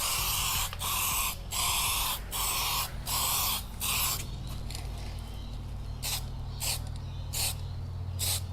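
Aerosol paint, Rustoleum or Duplicolor, sprayed onto plastic car trim in a string of about nine short, loud, close hissing bursts with brief gaps between them, over a steady low background hum.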